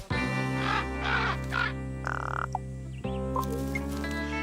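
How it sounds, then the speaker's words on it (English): A raven in an animated children's nature series makes a run of varied calls, tonal croaks and gurgling notes, loud and close, in quick succession over a sustained musical hum. "A raven can make so many different sounds."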